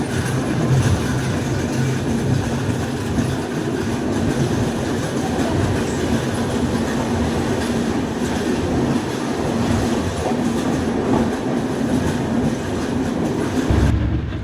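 A train pulls into Mathura Junction at night, with a loud, continuous rumble of wheels on track and clicking from the rail joints. It carries on steadily until a brief change just before the end.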